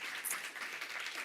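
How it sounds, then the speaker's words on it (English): Applause from an audience at a small business enterprise conference, a steady dense patter of many hands clapping throughout a short burst. "Let's give him a round of applause"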